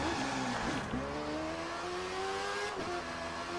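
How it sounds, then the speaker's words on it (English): A Kawasaki motorcycle revs in The Crew 2 during a live summit racing event, its engine note climbing steadily in pitch with a brief dip and another rise near the end, loud and close with no voices. "Just gonna have to rev it up."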